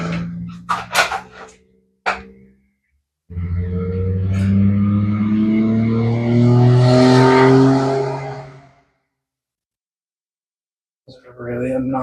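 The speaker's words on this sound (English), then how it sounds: "This is a really obnoxiously loud car." A very loud car engine roars nearby for several seconds, its pitch rising steadily as it revs or accelerates before cutting off abruptly, with brief bits of voice before and after.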